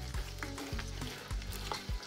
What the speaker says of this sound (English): I am frying up the lentils along with the onions.